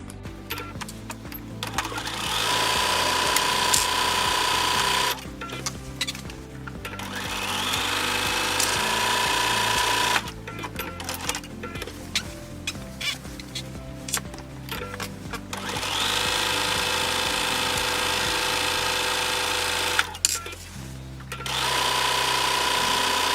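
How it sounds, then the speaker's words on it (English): A sewing machine stitches a seam in garment fabric, then a serger finishes it: long steady mechanical whirring runs broken by brief pauses, loud and close, with the motor pitch shifting between runs. "I'm going to go ahead and stitch this down with a 5/8 seam allowance, and then I'm going to go ahead and finish that seam off with my serger"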